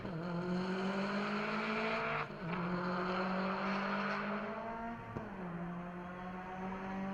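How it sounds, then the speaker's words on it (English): An Ariel Atom race car at a hairpin during a Scottish sprint event, its engine holding a steady high drone with brief dips as it shifts or lifts, fairly close and continuous. "as we hear him going through Butcher's area already at the hairpin"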